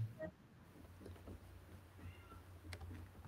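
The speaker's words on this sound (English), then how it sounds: "I heard a cat." A house cat meows faintly outside a bedroom door, a couple of quiet, distant cries over a low room hum.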